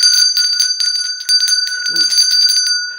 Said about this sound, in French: Je vais secouer ma petite cloche chaque jour